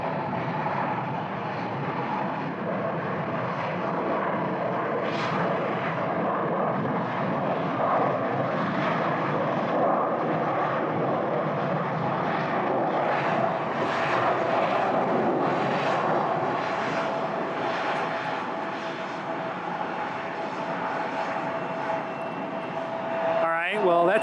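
Airliner taxiing at Phoenix Sky Harbor Airport, a steady broad engine roar with a whining tone that swells and stays loud and fairly near throughout, with light talk underneath.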